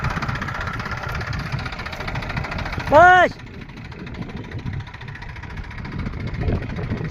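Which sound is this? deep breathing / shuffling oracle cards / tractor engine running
tractor engine running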